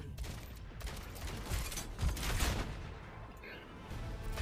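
Gunfire in an Overwatch match from the enemy Ana's rifle, heard amid a busy firefight with several booming shots and mechanical clatter, moderately loud with no voices over it.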